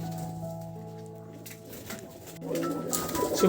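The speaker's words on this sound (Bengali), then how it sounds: "আর এখানে আছে কবুতর" Soft pigeon cooing carries through a low, steady murmur of ambient noise, growing somewhat busier and louder toward the end.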